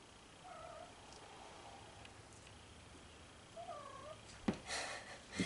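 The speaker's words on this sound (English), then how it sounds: "I don't know if you can hear that, but that is my cat." A cat nearby, with a low purr and a couple of soft meow-like tones, followed by some rustling and handling noises near the end.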